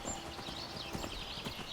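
Horse hooves clip-clop at a steady walking rhythm in Skyrim, a quiet run of soft repeated footfalls over faint outdoor ambience.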